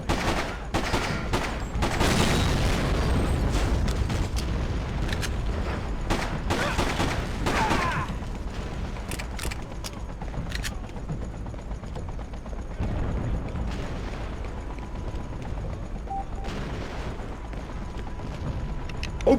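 Molotov cocktail explosions and gunfire in the video game Freedom Fighters, a dense, continuous barrage of rattling shots and rumbling blasts that carries steadily throughout, busiest in the first half.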